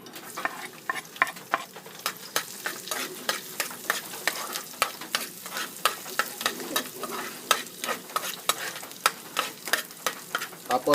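Garlic sizzles in hot oil in a pan for wild bird adobo, a steady hiss broken by regular sharp scrapes and clacks of stirring, close by with no talking.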